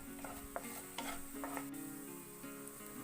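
Banana and egg snack mixture stirred in a bowl, with steady scraping and clinking strokes repeating close by, alone and without talk.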